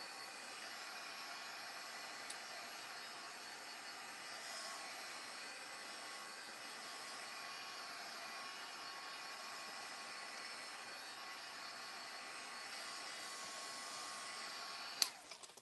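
A heat tool blows steadily for about fifteen seconds, drying the painted background of a craft piece. The whirring hiss stays even and close, ending in a brief click.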